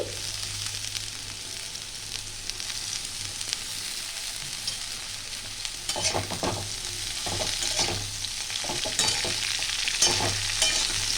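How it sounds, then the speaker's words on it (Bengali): Cabbage and potato frying in a pan for a vegetarian Bengali dish, sizzling steadily while a spatula scrapes and stirs in bursts of rhythmic clatter, close up and with no talking. "বাঁধাকপি আর আলু একটু ভেজে নেব"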